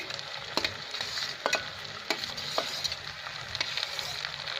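Okra and green chilies are stirred together in a pan, giving a soft, steady sizzle broken by irregular spatula scrapes and clicks at close range, with no talking.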